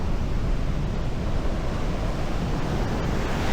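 Strong Pacific surf pounds the shore at Dingalan, Aurora, a loud continuous roar of breaking waves mixed with wind buffeting the microphone, with no voices heard.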